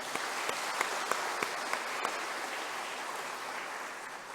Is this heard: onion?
no